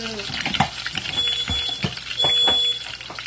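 Ingredients caramelizing in a pan while mackerel is being prepared, with a steady sizzle running throughout and scattered clicks and scrapes of stirring, plus a faint high electronic tone in the background.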